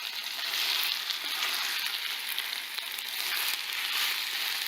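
Pasta all'assassina frying in a pan with broth, a steady close sizzle and crackle with no pauses or voices.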